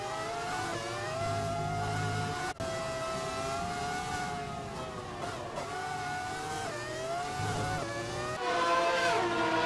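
Formula 1 cars race at the 1998 Mexico Grand Prix, with a Minardi holding off a faster Williams down the main straight. Loud, sustained high-pitched engine whine shifts in pitch as the cars pass and change gear, and no one speaks.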